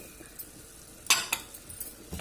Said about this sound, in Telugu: ఇలాగా అన్నీ వేసి ఫ్రై చేసుకోవాలి. మీడియం ఫ్లేమ్ పెట్టి బాగా ఫ్రై చేయాలి.